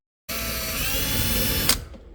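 Electric drill boring holes into an RV front door, a steady loud whine running for about a second and a half before stopping with a brief clunk and fading out.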